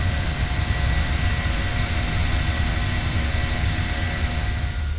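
A P-8 patrol aircraft climbs in Microsoft Flight Simulator 2020, its jet engines producing a loud, steady broadband roar with a constant drone throughout and no talking.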